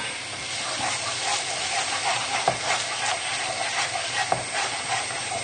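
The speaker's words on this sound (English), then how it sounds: "we'll just give that a stir in as well" Poached salmon is stirred into a pan of milky sauce for tagliatelle, giving a steady hissing simmer with soft bubbling and a few light spoon scrapes and knocks.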